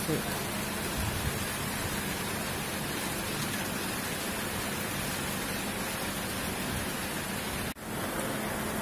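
Steady, dense rain hisses continuously, close and loud, with no breaks.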